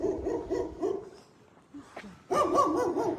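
A dog barks outdoors in drawn-out, wavering, howl-like bursts: a first run of calls, a brief lull with a faint yelp, then a louder second burst close by.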